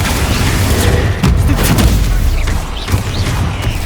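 Confringo blasting spells from Hogwarts Legacy explode as loud, booming bursts, several heavy blasts arriving in quick succession amid ongoing battle noise.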